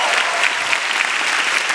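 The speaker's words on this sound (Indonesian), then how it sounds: "tepuk tangan dulu dong" An audience at a grand final stand-up comedy show claps in a dense, steady burst of applause from a full crowd, with a voice faintly audible beneath.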